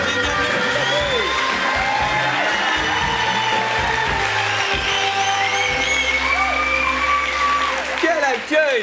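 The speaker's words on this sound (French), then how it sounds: "Ah mais c'est ça des applaudissements" A studio audience at an evening French talk show claps and cheers warmly for an arriving guest, a dense, continuous wash of applause with whoops rising above it and voices speaking over the noise.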